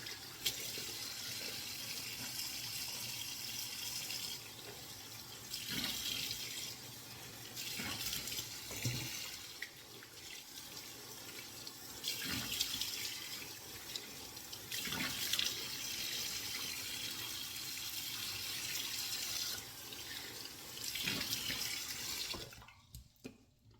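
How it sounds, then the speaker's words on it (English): Tap water runs continuously into a bathroom sink while a face is rinsed, a steady close splashing stream with slight changes in flow, ending abruptly near the end. "Rinse my face."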